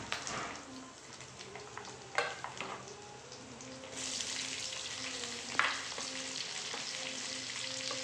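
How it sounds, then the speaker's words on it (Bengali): Onion and green chili drop into hot oil in a kadai after tempering spices, a low sizzle rising to a brighter, steadier crackle partway through, with a few soft clinks of stirring. "এবার পেঁয়াজটাকে ছেড়ে দেবো, পেঁয়াজ আর লঙ্কাটাকে ছেড়ে দেবো।"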